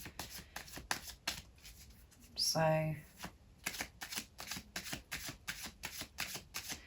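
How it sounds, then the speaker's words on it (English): A deck of tarot cards being shuffled by hand gives a steady run of crisp riffling bursts, close and clear, with a brief spoken word partway through. "I'm sitting here shuffling, just daydreaming"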